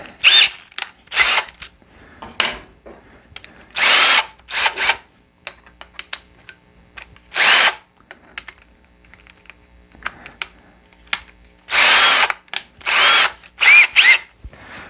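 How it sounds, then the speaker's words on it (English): A handheld power drill runs in repeated short and longer bursts, loud and close, with quiet gaps between each trigger pull and no talking. "you just stick the drill in like that"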